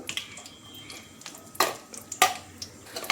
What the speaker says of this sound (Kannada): ಇದಕ್ಕೆ ಸ್ವಲ್ಪ ಗೋಡಂಬಿಯನ್ನು ಹಾಕಿ ಫ್ರೈ ಮಾಡ್ಕೊಳ್ಬೇಕೀಗ